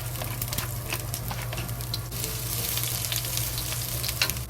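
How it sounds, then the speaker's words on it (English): Ginger frying in hot oil in a pot gives a steady, close sizzle with scattered crackles and pops over a low background hum. "When the oil is hot, we add the ginger into it. To fry the ginger first"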